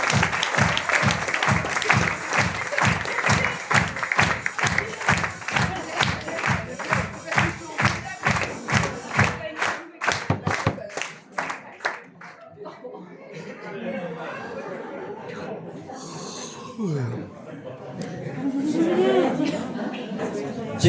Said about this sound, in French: on applaudit Guy pour sa participation